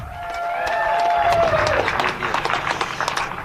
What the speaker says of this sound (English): How about a nice round of applause for Frankie Garcia?